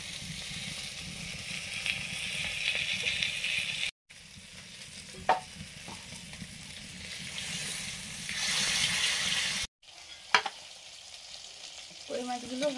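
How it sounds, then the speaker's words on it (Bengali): Koi fish frying lightly in a hot pan, giving a steady, dense sizzle throughout, broken twice by short pauses and by a few sharp utensil clicks and scrapes. "মাছগুলো হালকা ভেজে তুলে নিচ্ছি।"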